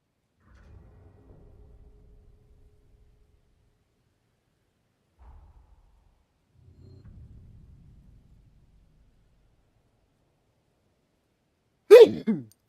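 A character in the game Code Vein 2 lets out a single sharp sneeze near the end, after a long quiet stretch broken only by faint low murmurs and rumbles.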